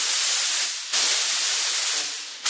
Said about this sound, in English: watch all this paint that gets sprayed away from it